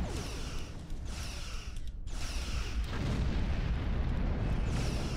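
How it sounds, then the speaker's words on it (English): Photon torpedoes launched in the space game Star Trek Online, a dense rumbling barrage of booming blasts that roll on continuously for several seconds, loud and close, with a brief dip in the middle. "fire 2 photon torpedoes, and that should take them out"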